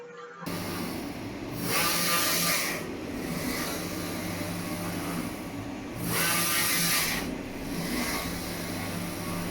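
A Focus Atlas 1311 UV printer making a single high-resolution pass of white, color and varnish: a steady mechanical whir with two louder hissing sweeps of the print carriage, close and continuous, with no talk.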